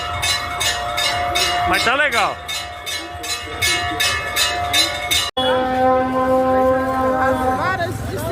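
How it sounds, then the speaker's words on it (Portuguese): Rhythmic bell strokes ring out repeatedly while a siren wails up and down, with people talking over the din, in India. "Sino de um lado, sirene tocando do outro."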